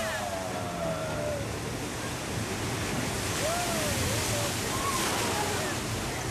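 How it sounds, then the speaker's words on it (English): At Universal Studios, a simulated flash flood made by dumping thousands of gallons of water down a hill produces a steady, loud rushing roar of water with no pause, while faint voices carry over it. "That flood's created by dumping thousands of gallons of water from the top of the hill."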